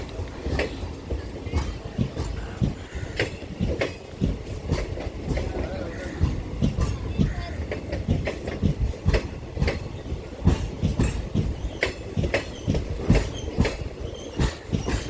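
A passenger train running between Nagercoil Town and Nagercoil Junction rattles along with rhythmic clickety-clack of wheels over rail joints, heard from inside the train, with faint talk mixed in.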